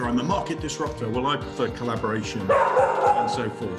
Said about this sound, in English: That's the dog going nuts.